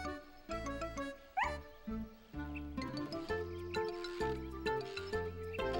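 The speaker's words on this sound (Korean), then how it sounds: "스너피는 꼬리를 흔들며 반갑게 짖었지요." A cartoon dog barks happily in an animated children's story, with several short yips and barks set against a bouncy musical score that carries on throughout.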